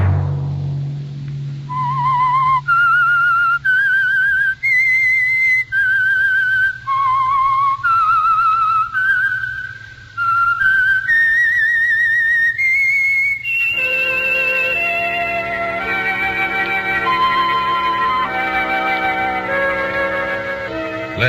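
A lone whistler performs the theme signal of The Whistler radio program, a melodic run of sustained, wavering notes, clear and close, with a fuller, layered musical passage taking over in the second half.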